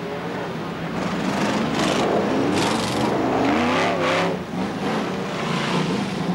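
BriSCA Formula 1 stock cars race down the home straight at Boston in 1991. Engines rise and fall in loud revving sweeps as cars pass near, over a constant rumble of the pack.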